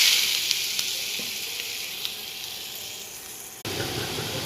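Chopped onion frying in hot oil with mustard seeds and cumin, a steady close sizzle that runs throughout, with a brief dip before it resumes.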